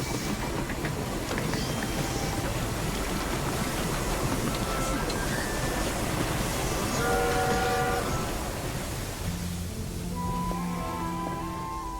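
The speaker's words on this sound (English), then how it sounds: "Look, the train is here." A train pulls in, its steady rumbling clatter filling the scene with a few brief tonal squeals and chimes over game music in Infinity Nikki; no one speaks.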